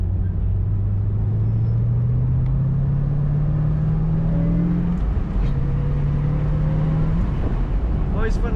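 A 2007 Ford Mustang Shelby GT500 convertible with a manual transmission drives with its top down. The engine drones loud and close, rising steadily in pitch, dips briefly at a gear change, then climbs again.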